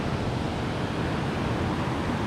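River water at Lubuk Kuali flows in a steady, broadband rushing wash, continuous and fairly loud with no breaks and no voices.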